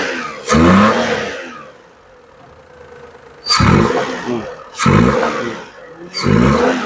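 A Perodua Viva 1.0 automatic with a misfire and shaking fault revs in four loud, close bursts, each rising and then dropping back to a rough idle between them.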